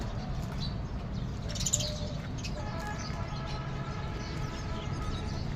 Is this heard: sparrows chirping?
yes